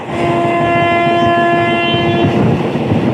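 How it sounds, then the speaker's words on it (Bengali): A passenger train running slowly over the new Ahiron rail bridge on the Azimganj–Farakka double line, a loud steady rumble of wheels with a sustained tonal ring, heard close from on board. "নতুন রেল ব্রিজে প্রবেশ করে গেলাম একদম নতুন রেল ব্রিজ পার করছে"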